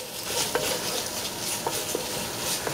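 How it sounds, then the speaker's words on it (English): Vegetables for a ragu sizzle as they are stirred and sautéed in a pan, a soft steady frying hiss broken by light scraping taps of the spoon against the pan. "I stir it around till I color my vegetables."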